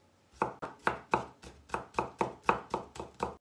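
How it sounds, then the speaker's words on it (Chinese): A knife chops a single-clove garlic and a small chili on a board in about ten sharp, evenly spaced strokes, close and distinct, with no voices. "一个独头蒜，一个小辣椒，把它切碎"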